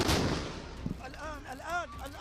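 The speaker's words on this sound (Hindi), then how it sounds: "तभी वहां पर इजराइल का एक और बंकर बस्टर बम आकर गिरा।" A loud, heavy blast from an Israeli bunker buster bomb in Gaza opens the clip and rolls away, followed by a second thud and a voice talking over the fading rumble.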